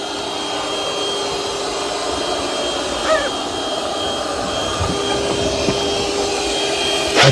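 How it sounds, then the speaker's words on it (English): A Roborock Curv 2 robot vacuum and mop combo runs at increased suction on dry dirt, giving a loud, steady whooshing drone with a constant high whine and occasional small clicks close by. "Dry dirt, increased suction power in this area."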